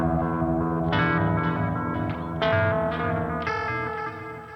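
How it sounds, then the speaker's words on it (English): A guitar run through a ring modulator pedal in an amp plugin rings out as a series of loud, metallic, clangorous chords, each struck note shimmering with harsh inharmonic overtones, with no talking. "We've also got a ring mod, which sounds like this."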